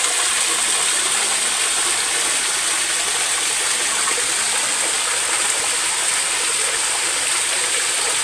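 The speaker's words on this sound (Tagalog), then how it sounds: "Ganda ng falls mga idol eh. Ito yung kanilang bagsakan ng tubig mga idol." Steady broadband rush of a clear waterfall pouring into its pool in a forest, continuous and close, loud hiss filling the scene with no pauses and no voices.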